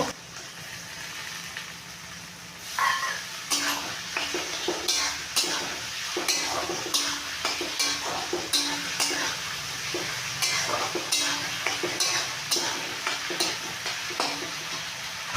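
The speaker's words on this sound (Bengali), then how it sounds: "রসুন বাটা আদা বাটা দিয়ে দিলাম একবার কষে নেব কষা হয়ে এসছে চিংড়ি মাছগুলো দিয়ে দেবো" Prawns frying with garlic and ginger paste in a pan, a steady oily sizzle under repeated rhythmic scraping and stirring strokes of a spatula against the metal, close and continuous.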